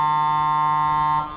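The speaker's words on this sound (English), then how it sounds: "As we hear the halftime siren in the background" Halftime siren at a rugby match, a steady loud buzzing electronic tone held for over a second before it starts to fade.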